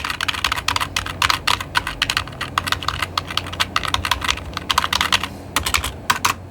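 Rapid typing on a computer keyboard being tested before unboxing a new Green-brand keyboard, a dense run of crisp close keystrokes with a few brief pauses near the end.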